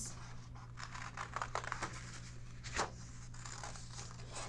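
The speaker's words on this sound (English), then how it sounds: "I'm going to cautiously and carefully cut out the coin with my child-friendly" Child-friendly scissors cutting out a paper coin, quiet intermittent snips and paper rustling close by, a few louder crinkles amid low background hum.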